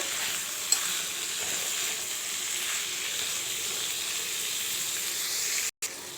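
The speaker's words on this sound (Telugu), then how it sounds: "ఇప్పుడు బొబ్బెలు వేసిన తర్వాత చక్కగా మొత్తము కలిపేసుకోవాలి." Black-eyed pea chaat is stirred in a hot pan, a continuous soft sizzle and scraping hiss that runs steadily up close, cut by a brief gap near the end.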